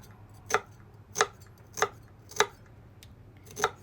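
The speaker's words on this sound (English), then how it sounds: "chop this onion" An 8-inch high-carbon stainless steel kitchen knife chops an onion in five sharp, evenly spaced strikes against a board, each a crisp, close tap separated by quiet.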